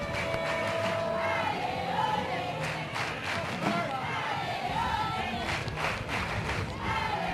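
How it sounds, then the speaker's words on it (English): A crowd at an ultimate frisbee final, excited shouts and cheers swelling in bursts over a constant murmur, with a commentator talking over it throughout. "you can see the crowd getting excited"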